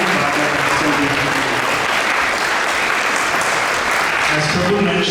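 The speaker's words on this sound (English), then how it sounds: "Let's give a big round of applause for Prabhu for speaking on Srimad Bhagavatam." Steady applause from an audience at a Sunday love feast lecture at ISKCON Toronto, a dense wash of clapping that holds at full strength through the whole stretch, with faint voices mixed underneath.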